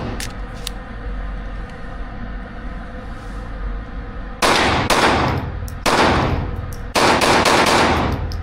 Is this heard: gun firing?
yes